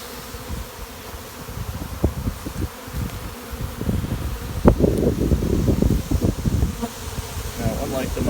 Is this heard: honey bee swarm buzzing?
yes